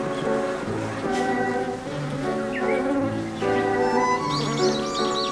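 Honeybees at a hive entrance in summer heat, fanning their wings to cool the hive. A close, continuous buzzing hum holds throughout, with birdsong chirping faintly behind.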